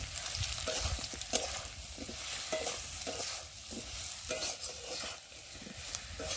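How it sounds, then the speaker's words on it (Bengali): Chili and coriander powder masala is stir-fried in a pan for a tilapia curry, making a continuous close sizzle under repeated scraping stir strokes, with no talk. "দিয়ে মশলাটা ভালো করে কষিয়ে নেব।"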